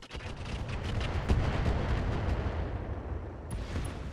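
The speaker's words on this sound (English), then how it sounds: "And some more indirect fire." Indirect artillery fire in the BattleTech RogueTech video game: a dense, continuous rumble of distant shell launches and impacts with sharp cracks layered on top, loud and sustained before thinning out at the end.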